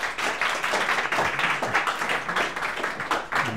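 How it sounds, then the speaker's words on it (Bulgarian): Audience applause welcoming a guest, the founder of a finance and insurance college, onto the stage at a discussion event: steady dense clapping from a crowd, fairly loud and continuous. "И моля с бурни аплодисменти го посрещнете на сцената."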